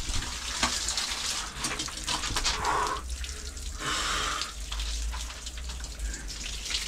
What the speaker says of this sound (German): Und dann kommt noch das Wasser raus für die Dusche.